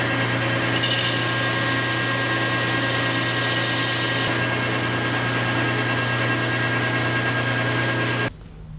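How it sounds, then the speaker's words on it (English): A power tool cuts teeth into a new reluctor wheel, a steady loud continuous grinding whir with a constant hum that runs for about eight seconds before stopping abruptly, no talk. "we're moving straight into cutting the teeth on the new reluctor wheel"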